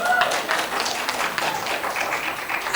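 Audience applause at a trailer launch event, a dense steady patter of many hands clapping close by, continuing without a break.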